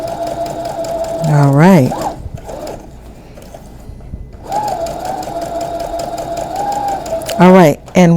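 Sewing machine stitching along fabric in a beginner pivot practice, a steady close mechanical hum and whir running through most of the clip, briefly pausing, with a person talking over it.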